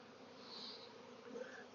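A swarm of bees that has dropped to the ground hums as one steady buzzing drone, fairly faint and close, swelling slightly midway with no voices.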